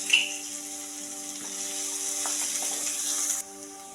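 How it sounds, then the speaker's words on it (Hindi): Chopped onion with cumin seeds sautés in a hot pan for palak paneer, giving a soft, steady sizzling hiss with faint crackles nearby that cuts off abruptly near the end. "अब हम यहाँ पर डालेंगे 1 चॉप ऑनियन। इसको भी हम अच्छे से करेंगे सौते।"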